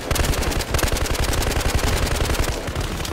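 Rapid automatic gunfire from the Battlefield Hardline video game, dense overlapping bursts of machine-gun shots firing almost continuously and loudly throughout, with no talking.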